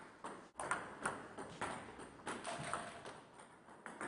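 A table tennis ball is served: a racket strikes it and it bounces on the table, giving a series of quiet, sharp ticking clicks at irregular intervals in an otherwise hushed room.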